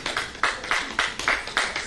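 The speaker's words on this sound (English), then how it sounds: "So round of applause for all the Indian men as well as women here." An audience claps at a parallel session of a 2017 forum, the hand claps sounding in sharp, evenly spaced bursts about every quarter second, like a small group clapping in rhythm rather than a full ovation.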